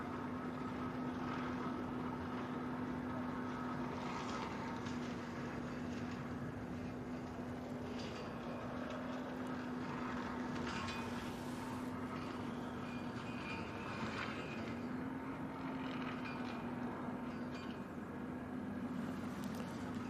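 An EasyJet A380 airliner arriving from Berlin at windy Manchester Airport gives a low, continuous, distant engine drone with a steady hum running through it, unbroken by speech for about twenty seconds.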